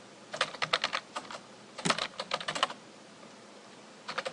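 Computer keyboard typing in bursts of quick key clicks, with a short pause and a few more taps at the end, close and fairly quiet.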